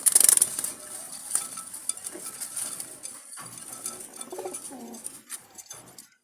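Jalali pigeons, kept for sale, give soft, low cooing calls, faint and intermittent, with occasional light clinks and rustles around them.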